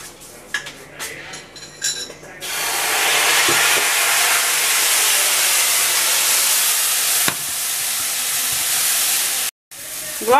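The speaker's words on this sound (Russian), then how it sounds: "Сейчас их обжарю немножко." Pork trotters fry in a pan with paprika. A few clinks of utensils come first, then a loud, steady sizzle and hiss runs on for several seconds and breaks off near the end.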